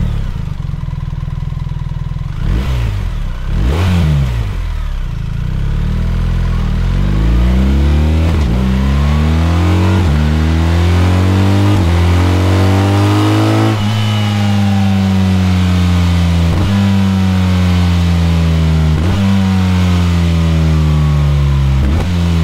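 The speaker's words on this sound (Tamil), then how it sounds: "அதே மாதிரி இந்த பைக்கோட எக்ஸாஸ்ட் சவுண்டு BMW வெப்சைட்ல வந்து நான் எடுத்திருக்கேன்." A 2025 BMW R 1300 GS Option 719 Tramuntana motorcycle gives a few sharp throttle blips, then accelerates hard through several gears, its loud exhaust climbing in pitch with each shift, close and alone.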